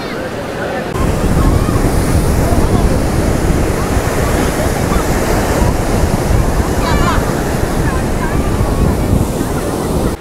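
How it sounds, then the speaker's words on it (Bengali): Sea waves break on the beach at Puri in a loud, continuous roar of surf, with heavy wind buffeting the microphone and faint crowd noise in the background. "ঢেউ নিয়ে কিছু বলার নেই, তোমরা সকলেই জানো যে পুরীর ঢেউ সেরা ঢেউ"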